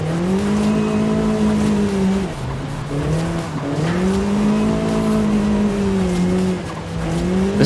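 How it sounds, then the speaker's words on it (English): A car drifts along a mountain touge road in Forza Horizon 5, its engine droning loud and close while the tires squeal in long, wavering bursts that dip and rise as the slides change. "This car is pretty great for drifting."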